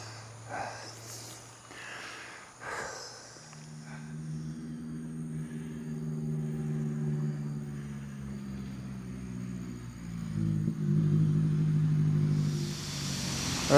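Engine noise from road vehicles labouring up a steep hill in Indonesia, a low droning hum that rises and thickens as a vehicle draws near and grows louder toward the end, with faint wind and rustle earlier.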